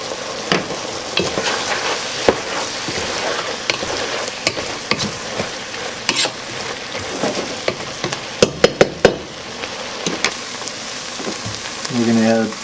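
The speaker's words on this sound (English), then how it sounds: "And we're going to get these starting to saute." Onions sauté with a pinch of sugar and salt in a pan for French onion soup, a steady close sizzle broken by frequent scrapes and knocks of a stirring utensil, louder clatter near the end.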